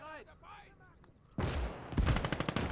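Gunfire in the World War II video game Gates of Hell: a sudden loud burst of shots after a quieter stretch with a short voice, ending in rapid repeated cracks up close.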